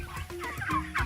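A large flock of 2 to 3 month old heritage breed turkeys calls on a farm. Overlapping clucks and gobbles sound close and busy, with no talk over them.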